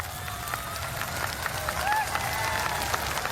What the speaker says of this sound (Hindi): ये जो तालियों का शोर है ये बिल्कुल बंद नहीं होना चाहिए